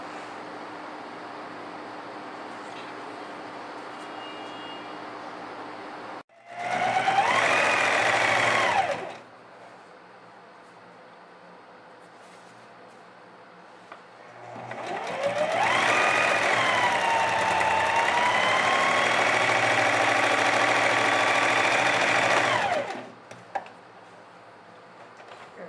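A domestic sewing machine stitches the side seams of a child's dress in two bursts, one short run and then a longer steady whirring run, with quiet pauses between them.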